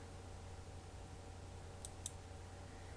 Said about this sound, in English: But I'm going to right click here